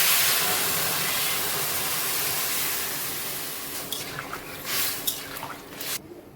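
Hot water is poured onto frying spice masala in a pan for hilsa and taro curry, a loud broad steaming hiss that fades into softer bubbling and a few wet pops.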